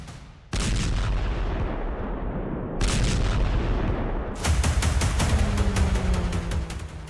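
Missile strikes hit an American airbase: a string of heavy, booming explosions, each a sharp loud blast with a long rumbling tail, coming in repeated bursts that overlap toward the end.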